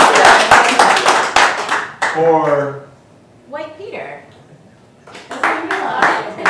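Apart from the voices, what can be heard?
audience clapping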